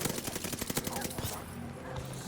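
Rapid automatic gunfire from an M1928 submachine gun in the video game Call of Duty: Vanguard, with dense bursts of shots for about a second that then fade into a lower background din.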